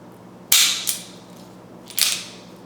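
A reprimed .22 LR rimfire cartridge fires with two sharp, fairly light cracks about a second and a half apart, each followed by a brief mechanical click, with quiet in between.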